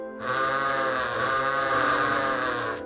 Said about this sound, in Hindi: एक दिन राघव बड़ी सड़क के साथ वाले मैदान में अपनी भेड़ें चरा रहा था